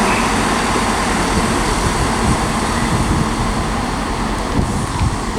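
Class 170 diesel multiple unit pulling away from a station platform at Haymarket, a steady loud broadband rumble and rush of traction noise sustained throughout with no voices.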